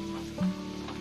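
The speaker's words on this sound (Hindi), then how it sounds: "इसी ऑयल में अब हम अपने आलू भी फ्राई कर लेंगे" Long-cut potato fries from one medium potato fry in hot oil, making a soft steady sizzle with a low hum and one brief louder bubbling burst midway.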